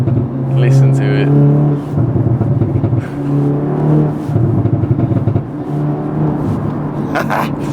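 A 400bhp Audi S3 revs hard on the road, its engine note rising and falling in strong surges. Loud rumble from inside the car with people talking over it.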